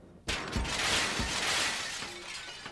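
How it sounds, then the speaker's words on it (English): Window glass shatters at close range, struck by a golf ball fired from an air gun on a film set; a sudden loud crash is followed by a couple of thuds and a long scatter of falling, tinkling shards that slowly fade. "it was a golf ball shot out of an air gun that shattered the window"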